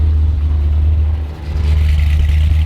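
A cammed 2006 Corvette with a naturally aspirated built motor idles with a loud, lopey chop close by, dipping briefly before a short rev swells and holds.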